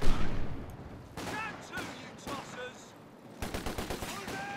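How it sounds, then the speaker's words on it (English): Gunfire and an artillery barrage from the Company of Heroes 2 strategy game crackle in bursts of shots and booming impacts, with a voice speaking over the battle noise. "Somewhat longer range barrage that time."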